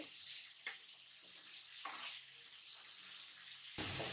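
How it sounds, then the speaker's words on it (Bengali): Pumpkin pieces fry with onion in a pan, a soft steady sizzle with a few light stirring knocks, faint overall and rising louder at the very end. "টুকরো করা মিষ্টি কুমড়াগুলো দিয়ে দিলাম। ভালোভাবে নেড়ে চেড়ে নিতে হবে।"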